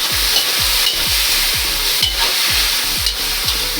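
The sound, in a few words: pork frying with garlic and onion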